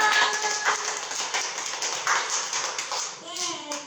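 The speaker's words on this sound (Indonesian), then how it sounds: "Tepuk tangan untuk Tuhan kita." Church congregation claps hands during a service in a live-streamed worship gathering, uneven scattered claps with faint voices and a brief tonal sound near the end.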